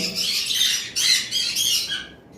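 Fawn cockatiels with white faces, a breeding pair, give a run of bright, shrill chirps and calls, several overlapping bursts close by with no talk.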